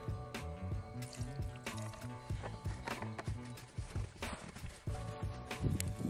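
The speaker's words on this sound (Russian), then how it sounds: "В банку льем немного отработки и сверху совсем немного бензина." Used motor oil and a little petrol pour into a can outdoors, a gurgling, glugging liquid stream with irregular splashes and drips, close and moderately quiet.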